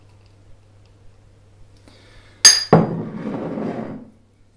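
Strongly hopped beer is poured into a glass: a sharp clink, then a splashing, fizzing pour that runs for over a second before tapering off.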